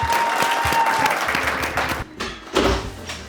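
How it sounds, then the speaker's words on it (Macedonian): Audience applause at a comedy show, a dense patter of clapping that swells, dips around the middle, then rises again with scattered crowd noise. "Аплауз!"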